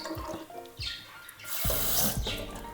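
Canned lentils are rinsed under a running tap, with water splashing loudly onto them in a sink for about a second near the end after quieter handling noises, with no talk.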